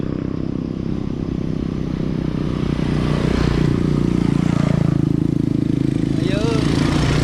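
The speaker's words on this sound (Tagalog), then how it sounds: "Ay, motorsiklo." Motorcycle passing by on a rural road, a loud, rough engine drone that swells and shifts pitch as it nears and goes by, over constant vehicle and wind noise with voices talking.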